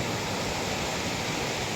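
Steady broadband wash of surf breaking on the shore at Boracay Island beach, a continuous hiss-like roar with no distinct individual wave crests, fairly soft and even throughout.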